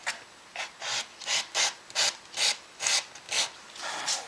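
A maple guitar pickup ring being hand sanded: about nine steady back-and-forth rasping strokes in an even rhythm, close and fairly quiet.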